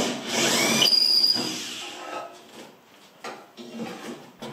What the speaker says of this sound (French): Je fais sauter les 4 rivets à la perceuse.